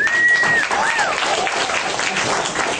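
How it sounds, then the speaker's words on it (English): Comedy club crowd at the Stardome applauding, a dense even roar of clapping filling the whole stretch, with a brief tonal sound near the start. "Y'all give yourself a round of applause."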